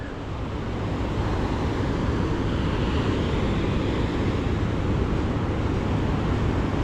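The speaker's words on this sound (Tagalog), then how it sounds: "Lakas yung alon." Strong surf breaking on a gray-sand beach in Zambales, a steady, dense roar of waves that holds loud and continuous throughout, with some wind buffeting mixed in and no voices.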